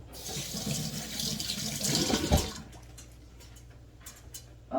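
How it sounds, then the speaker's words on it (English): Tap water runs into a sink as hands are washed, a close steady splashing stream for a couple of seconds that cuts off, leaving faint drips and small clicks. "Wash my hands again."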